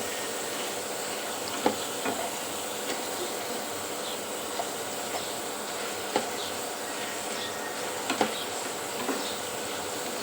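Potato chips frying in hot oil, browning after about five minutes: a steady, soft hiss of bubbling oil with scattered sharp crackles and pops, fairly close, with no voices.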